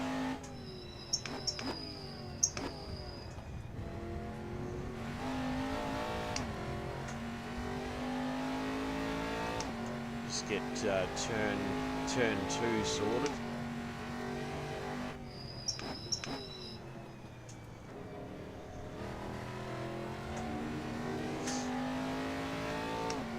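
A race car engine in a modded racing video game revs hard and climbs through the gears, with repeated shifts, lifts and braking dips over a steady roar, while a voice briefly talks over it.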